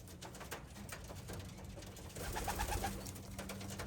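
Breeder pigeons coo steadily in a loft, low soft calls repeating through the clip and growing a bit fuller and closer toward the end, with faint background hiss and no talking.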